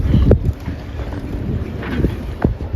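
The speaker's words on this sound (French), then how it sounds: "il y a des bateaux qui passent un peu vite" Boats pass fast on open water in the Baie d'Agay, engines rumbling, a low wash of motor and wind noise with a few louder surges.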